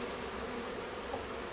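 A medium-sized honeybee swarm buzzes inside a hive during comb replacement, a dense, steady drone that stays close and unbroken throughout.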